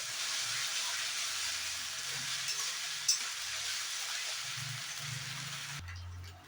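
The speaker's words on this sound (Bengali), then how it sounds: "আদাটাকে দেওয়ার পরও ভালোভাবে আদাটাকে ভেজে নিচ্ছি" Soft, steady frying hiss of ginger in a pan, with faint low clatter and a single brief tap, quiet and close, fading at the end.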